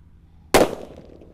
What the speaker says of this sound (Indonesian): mercon thunder bosku yang kita nyalakan di lubang tanah